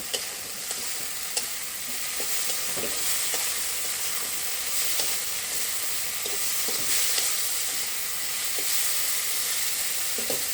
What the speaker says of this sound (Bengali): এখন হাই ফ্লেমে এটাকে আমি ভালোভাবে নেড়ে দিব